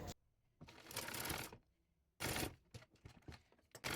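Two short runs of a sewing machine stitching a princess-cut blouse, each a close rattling burst with quieter handling clicks and rustles after the second.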